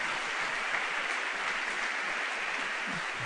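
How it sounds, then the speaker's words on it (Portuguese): A church congregation claps together in a steady, even wash of applause that holds at a moderate level throughout, with no voices. "nós adorássemos a Deus com uma salva de palmas"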